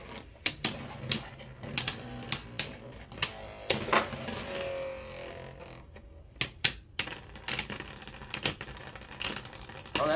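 Beyblade Burst QuadDrive tops, including Guilty Luinor, clash in a plastic stadium, giving sharp irregular clacks and metallic clinks between stretches of steady whirring spin, loud and close.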